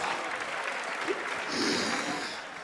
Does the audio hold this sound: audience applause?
yes